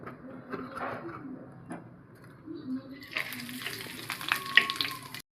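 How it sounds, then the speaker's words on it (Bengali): Cut potatoes hit hot oil in a kadai and set off a sudden loud sizzle partway through, after a quieter stretch with a voice speaking and faint kitchen sounds. "এবার গরম হলে আলুটা ভেজে নেব"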